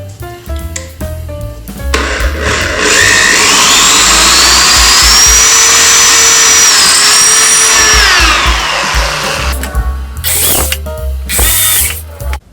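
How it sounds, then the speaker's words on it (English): A power drill whines loudly and steadily, its pitch rising and holding as it pre-drills a hole in a wooden nightstand, then a few short bursts as it winds down. "I'm going to pre-drill the hole for the knob"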